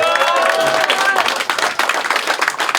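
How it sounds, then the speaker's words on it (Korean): Warm applause from a seated crowd at a Korean political gathering, dense steady clapping that holds for the whole stretch, with a voice speaking over the start. "이분들에게 좀 큰 박수 부탁드리겠습니다"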